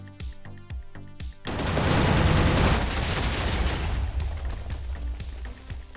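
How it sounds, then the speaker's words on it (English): Modded Minecraft automatic machine-gun turret loaded with incendiary ammo opens up after a few sharp single shots, becoming a loud, dense, continuous burst of gunfire with crackling fire and rumble underneath. "Giving this automatic machine gun turn incendiary ammo was definitely a problem, though."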